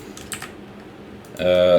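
Computer keyboard arrow keys pressed while nudging an object in a Happy Wheels level editor, a few soft close clicks spread over under two seconds, followed by a brief tonal electronic sound near the end.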